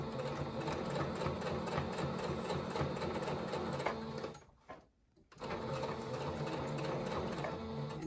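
A sewing machine stitches the fabric pleats of a surgical mask in a steady, fast, close mechanical whir, stopping briefly just before the five-second mark and then starting up again to run to the end.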